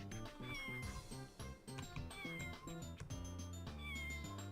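Repeated cartoonish cat meows from the video game Scribblenauts sound over bouncy in-game background music, several short mewing calls rising and falling in quick succession.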